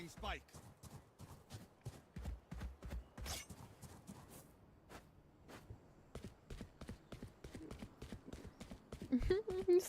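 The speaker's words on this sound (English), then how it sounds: "He's stomping so loud." Loud enemy footsteps in the tactical shooter Valorant, heavy repeated thumps in a quick rhythm, close and prominent, mixed with game sounds and talk over the top.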